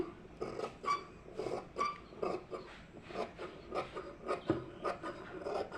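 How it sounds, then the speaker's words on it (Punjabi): Quiet, repeated rasping snips as cloth is cut from the side while tailoring a round neckline for a kameez, short strokes coming one after another at close range. "ਆਪਾਂ ਇਹਨੂੰ ਸਾਈਡ ਤੋਂ ਇਹਦੀ ਕਟਿੰਗ ਕਰਨੀ ਹੈ"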